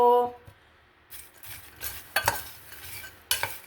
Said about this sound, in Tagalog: Pwede namang haluin ng ganito.